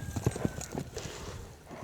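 A horse on sale being turned left and right steps with a few quick, fairly faint hoofbeats. The clip-clops come in a brief irregular cluster over a low background hum.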